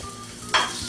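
Chopped onion dropped into hot oil with garlic for a chile de árbol salsa, a sudden close sizzle bursting up and then settling into a steady fry.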